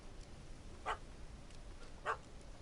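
A puppy in The Witcher 3 gives two short, distinct barks about a second apart, at moderate distance over a low, steady game ambience.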